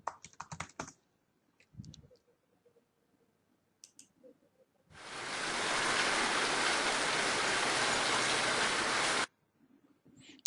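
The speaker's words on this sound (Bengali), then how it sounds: "এরপর আপনি চাচ্ছেন বৃষ্টির শব্দ" Rain sound effect played in an audio editor: a dense, steady hiss of rainfall lasting about four seconds, loud and alone, bracketed by quiet keyboard typing and mouse clicks before and after.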